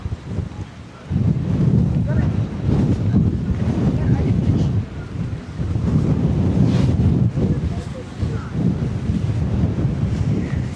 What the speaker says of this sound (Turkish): Rüzgar bizi itiyor.